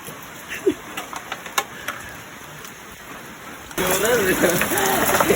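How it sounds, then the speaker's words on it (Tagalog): Rain patters with scattered drops hitting a surface, then becomes a louder steady downpour partway through, with a voice briefly audible near the end. "Tubig ulan oh. Tubig ulan."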